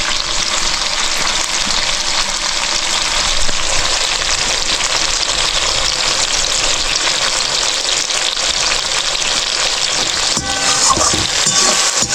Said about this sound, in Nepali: बिस्तारै सानो आगो हालेर मजाले भुट्नुपर्छ